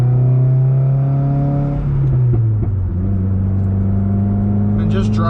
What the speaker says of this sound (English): I can just keep beating it up. It just keeps revving out.